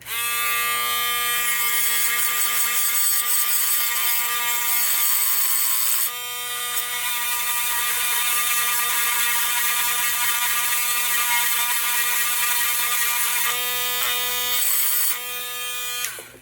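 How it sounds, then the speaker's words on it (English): A cheap Harbor Freight rotary tool fitted with a genuine Dremel 443 wire brush bit cleans a part on a 1985 Williams Comet pinball machine. It makes a close, steady, buzzing high-pitched whir, with a brief dip midway and no talk. "this is just a cheap Dremel with a Harbor Freight Dremel with a real 443 Dremel bit on it"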